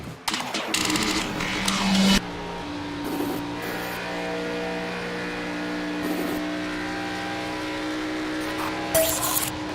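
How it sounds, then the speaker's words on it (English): IndyCar engines in a sim racing game at Indianapolis start up and settle into a steady idling drone, with louder bursts near the start and end. "Dark Horse IndyCar drivers, start your engine."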